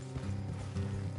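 Horse hooves from the video game Red Dead Redemption 2, a steady, close clip-clop of a running horse over a continuous low rumble, with no talking.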